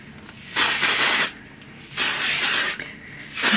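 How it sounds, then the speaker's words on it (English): Texture spray misted into the roots of hair in three long, loud hissing bursts, with short pauses in between. "I just kind of spray it into the roots area, rub it in."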